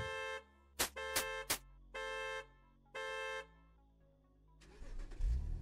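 Stolen car in the Thief Simulator 2 video game, its horn blaring in several loud sustained and short toots like an alarm, then the engine cranking and starting with a rising rumble.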